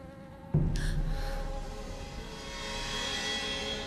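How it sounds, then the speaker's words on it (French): Flies buzz in a steady, droning swarm that starts abruptly and continues loud and close, thickening slightly toward the end. "C'est quoi toutes ces mouches?"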